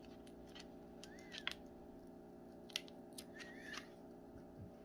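Puffy vinyl being peeled off its backing sheet makes soft sticky crackles and a few sharp ticks and snaps, close and quiet over a steady background hum, with no talk.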